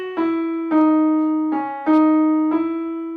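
Five clear struck notes played on keys as a minor scale passage with a raised sixth degree. Each note rings and decays before the next in an even stepwise rhythm, with no talk.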